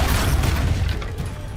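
An Expulso explosion spell from Hogwarts Legacy goes off as a dense, loud, rumbling blast that fills the whole short moment and fades slightly toward the end.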